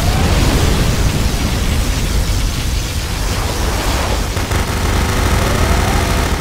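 A particle cannon fires in Command & Conquer Generals Zero Hour, a loud sustained roaring blast of broadband energy lasting several seconds, with a thinner sizzling tail and faint tonal sweeps near the end.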